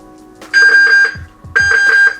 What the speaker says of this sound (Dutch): En nu geeft hij een alarm.